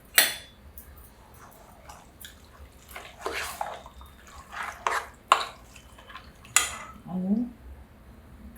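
Sliced onion and mint leaves being mixed in a dish: a series of irregular clinks and scrapes of a spoon against the vessel with wet squishing, close up, and a brief word spoken near the start.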